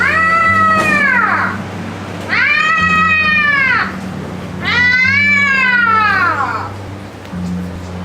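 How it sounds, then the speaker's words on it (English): A cat meows three times in a Macbeth film, each meow long, loud, close and drawn out, with a low steady hum underneath. "The tawny cat has meowed 3 times."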